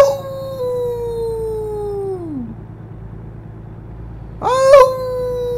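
A human voice imitates a dog, giving a long, falling howl followed by a shorter, rising howl-like cry, over a steady low engine drone from a truck-driving game.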